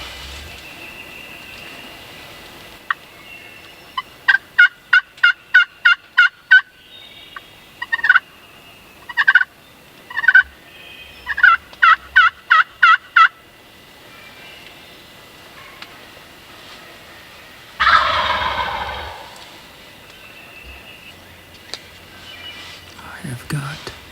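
Wild turkey gobblers roosted nearby in Kentucky spring woods gobble in repeated bursts, loud and close, alternating with quieter stretches and a brief rustling burst late on.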